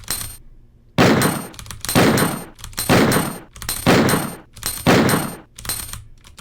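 About seven quick gunshots from Resident Evil 2 ring out in an uneven rhythm, each a loud, sharp blast with a trailing ring, with no talking.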